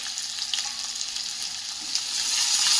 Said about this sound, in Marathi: लालसर व्हायला सुरुवात झाली की यामध्ये हा बारीक चिरलेला कांदा घालून घ्यायचा